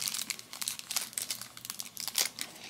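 Plastic packaging around Disney pins from a Nightmare Before Christmas Halloween set crinkles and crunches as it is worked open with scissors, in a close, busy stream of rustles and small snips with no talk.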